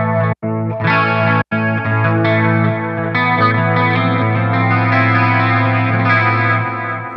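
Electric guitar run through a compressor on a Line 6 Helix, two quick muted stops, then a loud, even, sustained chord line with a smooth squashed attack and a shimmering effected tone, no voices.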